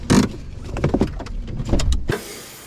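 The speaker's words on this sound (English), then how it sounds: "let's close it off in a car boot." A car boot lid is handled and pulled shut, with rustling, knocks and creaks building to a firm close around two seconds in, then quiet muffled interior air.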